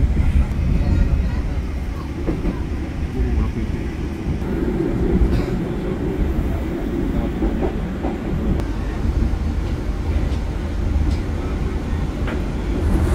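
The Direct Train passes through Semarang Poncol station with a continuous low rumble and rail clatter, a steady, close and loud roar with faint voices underneath.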